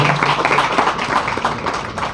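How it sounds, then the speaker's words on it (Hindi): A group claps during an Arya Samaj satsang, with close, continuous, fairly loud applause filling the whole moment and no break in the patter. "ताली बजाइए, ताली बजनी चाहिए"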